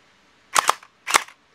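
A Han Di MK6 gel blaster toy cycles its blowback action twice, each a sharp close double snap of plastic clicks, the two bursts about half a second apart.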